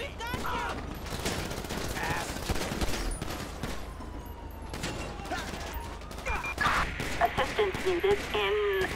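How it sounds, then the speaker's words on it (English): Gunfire in Grand Theft Auto V during a police shootout: rapid volleys of shots crackle throughout, with radio chatter and voices talking over the fighting. "Shots fired. We got shots on officer."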